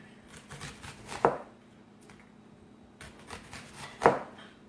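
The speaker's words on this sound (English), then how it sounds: "So I'm just chopping my onion here." A knife chops an onion on a cutting board in two distinct strokes a few seconds apart, with faint scraping and rustling between them.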